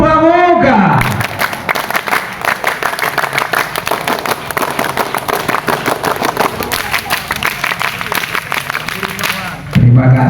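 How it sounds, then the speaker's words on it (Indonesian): An audience performs the rhythmic Pramuka scout clap together, sharp synchronized claps repeating steadily over several seconds, close and loud, with voices and crowd noise mixed in. "Coba sekali lagi 3 kali tepuk Pramuka"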